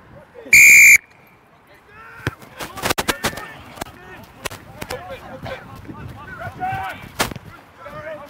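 Loud, sharp referee's whistle blast near the start of a rugby practice session, followed by players shouting, clattering and talking in the background.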